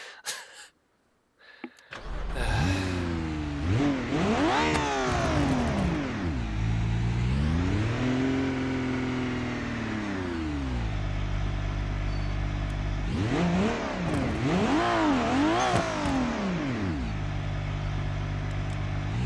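A car running a nitrous shot in BeamNG.drive roars up through rising, sweeping revs over several gear changes, loud and close after a brief quiet start, then eases off and climbs again.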